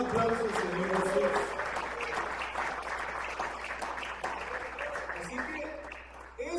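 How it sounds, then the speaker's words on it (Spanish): Church congregation applauding during a Spanish-language teaching service, a steady sustained clapping wash heard from a moderate distance, with voices and faint music woven in underneath. "Den un aplauso al Señor Jesús."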